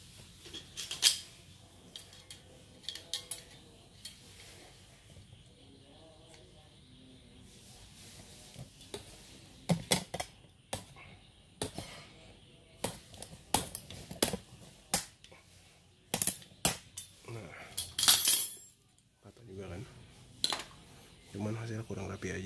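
Plastic pieces of a Honda PCX front fender being snapped off by hand, a string of sharp cracks and clicks spread irregularly through the clip, with a voice talking and counting between them.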